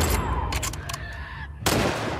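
Gunfire in The Last of Us Part II: a few loud, sharp shots ring out close, with a burst at the start and another blast near the end, amid chaotic game noise.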